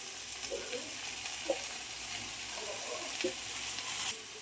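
Chopped pumpkin leaves fry in a pan with ground poppy seed paste and spices, a steady sizzle running throughout with a few soft stirring scrapes and clinks close by.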